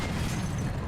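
Grenade explosion in the game Mass Effect 3, a dense low rumbling blast that fills the brief moment, loud and close.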